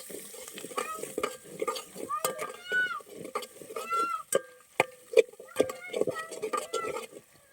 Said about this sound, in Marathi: ह्यात कांदा आणि टोमॅटो पहिल्यांदा परतायला टाकलेला आहे